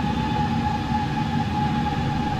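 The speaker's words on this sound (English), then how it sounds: "Engines stabilized." Airbus A330-300 jet engines at takeoff power in X-Plane 12, a loud, steady whine and roar with a sustained high tone over broad rumble, unbroken and constant throughout.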